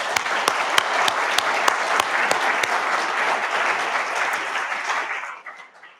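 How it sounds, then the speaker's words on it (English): A conference audience applauds steadily for several seconds, dense and fairly close, with a few sharper individual claps before the clapping dies away at the end. "So another big round of applause,"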